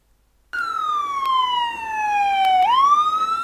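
An ambulance siren wails loud and close, one long sweeping tone falling gradually, then rising again as the cycle restarts.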